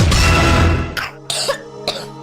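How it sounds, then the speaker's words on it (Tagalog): A child's coughing fit, heavy and chesty, played in a cough syrup commercial; a long rough burst is followed by several shorter separate coughs, close and loud with no talking. "Ubo ng anak, nakababahala, baka plema."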